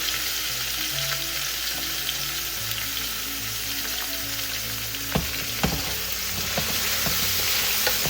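String beans sauté in a pan while cooking Filipino kare-kare, oxtail peanut stew, giving a steady close sizzle with a few sharp scraping stirs near the end and no talking.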